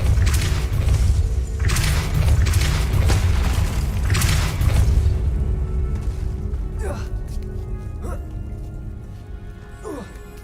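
Depulso force spell cast in Hogwarts Legacy, a video game: a run of deep booming thuds over a low, steady rumble, loud at first and thinning out toward the end, with a few sharp ticks.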